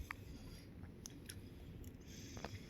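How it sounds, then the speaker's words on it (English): Someone biting into and chewing homemade lasagna with ricotta, shredded cheese and garlic onion sauce, quiet close mouth sounds with a few soft crunchy clicks. "That was a big bite."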